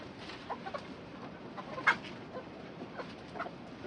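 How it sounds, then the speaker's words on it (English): A chicken clucks in short scattered bursts over a quiet background hiss, with one louder squawk in the middle. "it didn't take us long to realize he was a rooster"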